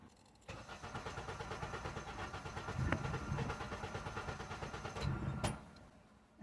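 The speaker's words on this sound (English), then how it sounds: "I'm gonna try to turn on the vehicle right now" A Honda 2.4-litre engine with a cam and crank sensor fault cranks with a rhythmic, pulsing whir for several seconds, briefly catches near the end, then cuts off abruptly.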